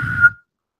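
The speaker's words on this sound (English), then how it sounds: "just let out a low whistle" A single low whistle, short and steady, held for about a third of a second before cutting off into silence, close and fairly loud.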